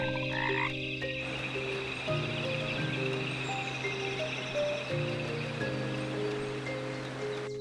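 Frogs croak in a Madagascar rainforest, repeated low pulsing calls with several overlapping callers, some higher chirps and trills above, all set against a soft wet background of stream and leaf rustle.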